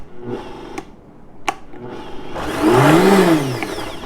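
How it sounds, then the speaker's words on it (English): Blender briefly blitzing probiotics into vegan nut yogurt: quiet clicks and handling first, then a short motor whir that rises and falls in pitch near the end. "I'm going to just blitz it really quick because I don't want to heat it up"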